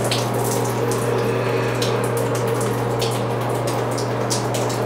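Water streaming steadily from a hotel shower head at the Luxor in Las Vegas, a continuous loud hiss and spatter with a low pump-like hum underneath, no talking.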